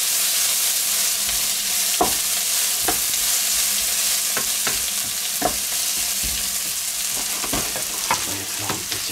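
Onions fry in a wok, a constant crackling sizzle broken by sharp spatula scrapes and clacks against the metal every second or so.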